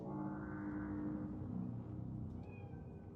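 A cat in Cyberpunk 2077 gives a single drawn-out meow, with a low rumble beneath it and a faint high tone toward the end.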